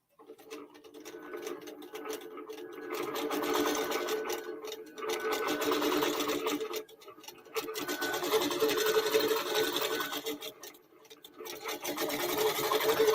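A QBOT V3 Pro quilting robot drives a sewing machine in a steady, fast needle chatter that runs in bursts separated by short pauses, moderately loud and close, with no talking.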